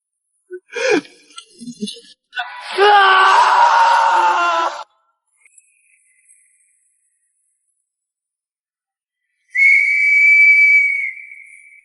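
A whistle blown in a palace drama scene gives a long, steady shrill tone near the end, loud and alone, after a gasp-like breath and a sustained vocal sound earlier.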